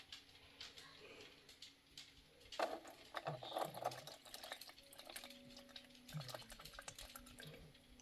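Used cooking oil poured from a measuring cup into a coffee filter sitting on a strainer, a quiet close trickle with a few louder splashy bursts midway and small clinks of the cup.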